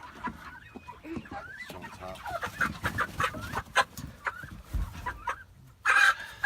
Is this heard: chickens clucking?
yes